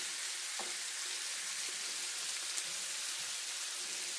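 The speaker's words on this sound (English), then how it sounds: "we're going to cook the cabbage and the onion for about 8 to 10 minutes. And we're going to stir occasionally" Cabbage and onion fry in a pan with a steady, broad hiss like light rain, broken by an occasional soft tap or crackle, close and continuous with no voices.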